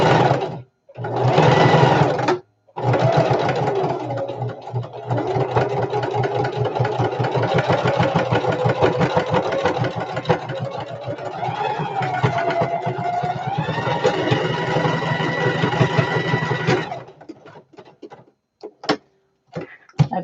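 Sewing machine running a zigzag stitch on a shoulder bag: short bursts at first, then a long steady run of rapid rhythmic needle chatter that stops, followed by a few faint clicks, close and loud.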